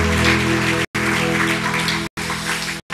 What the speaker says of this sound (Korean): 우리 서로에게 다시 한번 축복의 박수 사랑의 박수 한번 더 부탁드리겠습니다